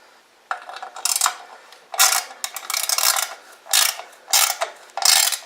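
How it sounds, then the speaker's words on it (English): A ratchet tightens skid plate bolts on a Husqvarna FC 250 motorcycle, giving off several short bursts of quick metallic clicking, close and fairly loud, separated by brief pauses. "It'll help if you have a bigger ratchet, a little bit more power, but then again, you might not want to strip it."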